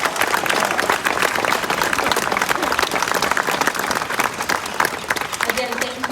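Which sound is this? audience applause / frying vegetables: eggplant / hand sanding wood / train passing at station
audience applause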